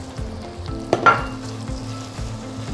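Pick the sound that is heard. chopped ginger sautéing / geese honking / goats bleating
chopped ginger sautéing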